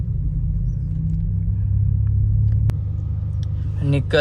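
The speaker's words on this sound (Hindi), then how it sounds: "घर से निकलते ही ट्रैफिक चालू।" A VW Polo drives off into traffic, its low engine rumble steady and close throughout, with a brief burst of other road noise near the end.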